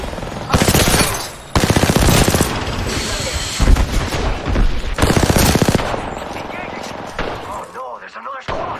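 Bursts of rapid automatic gunfire in a video game firefight, loud and sustained with brief pauses between volleys, explosive booms mixed in, and a player talking over the shooting.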